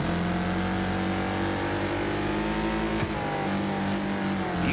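A race car on an oval track roars past close and loud under a steady engine drone, and its pitch drops near the end as the driver lifts off the throttle.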